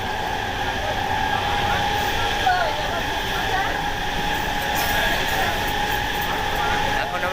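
Steady, close rumble and rolling hum inside a moving passenger train bound for Bardhaman, with faint tonal whines on top, continuous with no break, and a little background chatter in the carriage.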